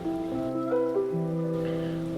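Rain falls outside as a steady, soft hiss, partly masked by sustained tonal sounds layered over it throughout.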